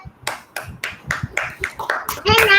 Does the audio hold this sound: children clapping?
yes